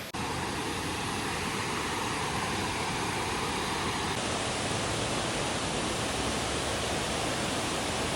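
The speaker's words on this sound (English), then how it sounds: "a little further, you can see the waterfall so much better" Waterfall beside a light-to-moderate hiking trail in Tennessee, a loud unbroken wash of falling water close by, dense and even throughout with no speech.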